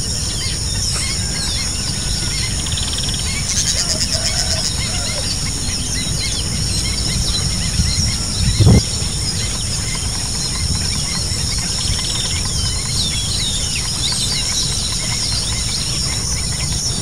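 Many birds calling at a lagoon, a dense chorus of chirps and high trills over constant insect-like buzzing, with one brief louder sound midway.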